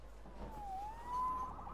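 A police siren from the video game Marvel's Spider-Man wails faintly in the distance, rising and falling over a steady low background hum.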